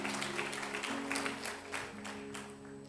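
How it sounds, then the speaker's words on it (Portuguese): A church congregation at a Baptist church anniversary service claps together in a steady, even patter that lasts throughout, with a low musical drone sustained underneath. "Pode dar uma salva de palmas para Jesus por isso?"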